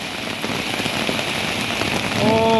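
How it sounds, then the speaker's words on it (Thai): Hail falling in Fang, Thailand, pattering densely and steadily on a surface, loud and continuous throughout, with a faint tonal sound near the end. "ลูกเห็บครับ ลูกเห็บ ขาวมาเลย"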